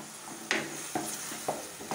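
An onion, garlic and masala paste is stir-fried on high flame for cauliflower and potato curry, with a soft sizzle broken by four evenly spaced scraping stirs, faint and close.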